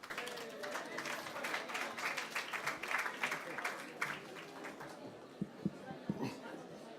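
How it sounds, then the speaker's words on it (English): An audience applauds at a conference event on creativity and traditions. The clapping is fairly soft and continuous for several seconds, then thins out into a few scattered claps near the end. "Give us a great applause."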